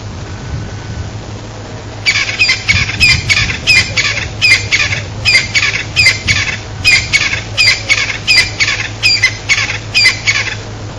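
Repeated raspy squawking calls in rapid bursts over a low background hum, a ground-dwelling bird calling insistently, fairly close and loud.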